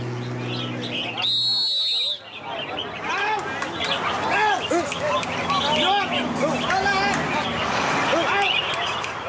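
Several caged songbirds trill and chirp in overlapping bursts at a bird song contest in Thailand, while a crowd murmurs and voices talk throughout.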